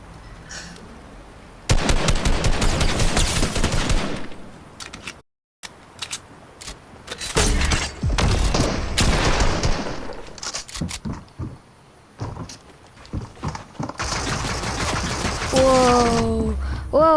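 Loud bursts of pistol fire in the Fortnite video game, rapid cracking shots in dense clusters with brief gaps, mixed with other game effects and a rising synthetic tone near the end, while players talk over the action.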